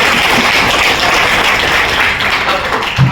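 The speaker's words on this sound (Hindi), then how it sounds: "प्रोडक्ट के लिए जोरदार ताली।" Audience clapping loudly for a product at a training session in Rourkela, dense continuous applause throughout with a faint voice near the end.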